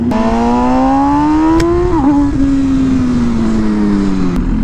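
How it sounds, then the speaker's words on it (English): An MV Agusta Rush motorcycle engine is revved hard while riding, a loud, close, rising whine that climbs in pitch, dips briefly, then holds and slowly eases off. "So I kind of over revved it a little bit because it didn't need that."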